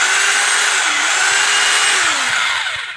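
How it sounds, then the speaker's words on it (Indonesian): A repaired three-function rotary hammer drill runs in drill-only mode with a loud, steady high whine, its pitch sinking slightly as it winds down at the end, with no talk over it. "untuk bor saja coba"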